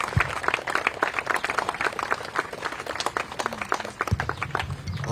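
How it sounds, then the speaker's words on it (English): Scattered clapping from a crowd gathered outdoors at a candlelight vigil for a fallen police officer, individual claps distinct and uneven, fairly close, with a low thump or two and no talking. "Another round of applause,"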